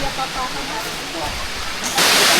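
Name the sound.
Kaparkan Falls waterfall in Abra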